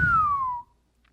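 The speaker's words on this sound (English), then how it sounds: "There's a weak ass whistle" A single short, weak whistle slides gently downward in pitch for about half a second, then cuts off to near silence.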